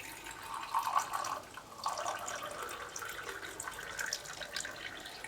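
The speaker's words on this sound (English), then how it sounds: "And then you take the hot water and you pour it in." Hot water is poured into a cup to make blueberry tea, a soft, quiet trickle and splash that rises, dips briefly, then continues steadily to the end.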